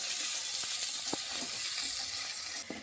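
Onion frying in a pan until browned, giving a steady bright hiss of sizzling oil with a few faint scrapes and taps from stirring, close and moderately loud without talk.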